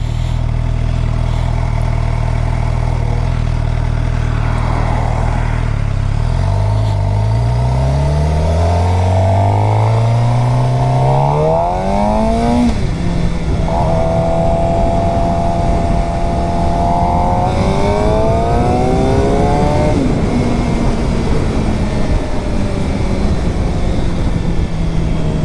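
A 2013 Suzuki GSX-R 750 four-cylinder sport bike engine, loud and close, idling and then revving up and down in several smooth rising and falling sweeps of pitch over about twenty-five seconds, with no talking.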